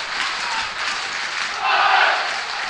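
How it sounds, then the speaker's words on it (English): A football stadium crowd roars in support of Rovers during a match against Cork, a continuous wash of cheering and chanting that swells louder near the end. "Once again the crowd trying to get behind Rovers here and lift them."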